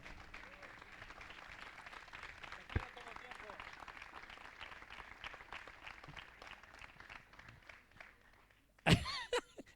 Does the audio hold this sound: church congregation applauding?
yes